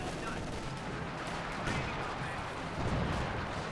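Gunfire and shots rattle through a Company of Heroes 2 battle, with bursts and scattered cracks at a moderate, slightly distant level, under faint background talk.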